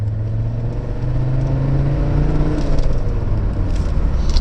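An Audi 100 C3 Avant with a non-turbo diesel engine drives along a road, a loud, steady low engine drone and rumble heard from inside the car, rising slightly as it accelerates, with no talking.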